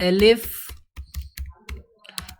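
Code is typed on a computer keyboard in short bursts of clicky keystrokes, close and distinct, following a brief spoken phrase at the start.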